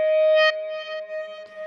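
An electric guitar string held in endless sustain by an EBow, pitched up, rings as a steady pure tone with a faint wavering shimmer, heard alone and up close.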